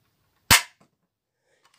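One loud, sharp rifle shot cracks out at a shooting range and decays quickly, followed by near silence with faint rustling.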